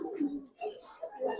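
Old-breed Giribaz pigeons, silver and related types, give soft, throaty coos close by in two or three short bursts with brief pauses between them.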